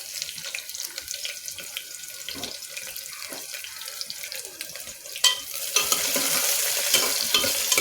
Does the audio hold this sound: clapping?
no